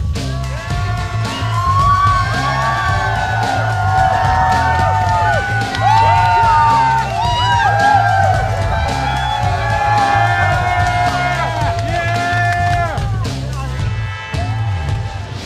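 A large crowd cheers, whoops and yells at the League of Legends Season 3 World Championship, a dense, loud roar sustained throughout with scattered shouts rising above it.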